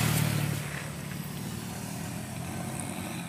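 Motorbike riding on an open road toward Isulan, a steady engine drone with road rumble, a little louder at the start and then holding even and close throughout with no talking.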